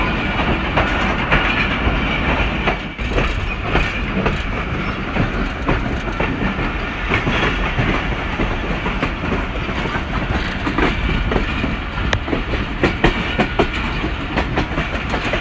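The 12dn Hazara Express runs on the rails near Malakwal Junction, a loud, steady rolling roar of wagons with rhythmic clickety-clack from the wheels throughout, no voices.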